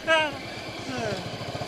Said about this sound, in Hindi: रॉयल इनफील्ड को लगिंग करते हुए